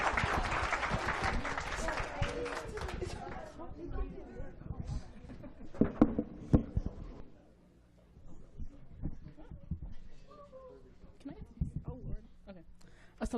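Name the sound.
audience applause and cheering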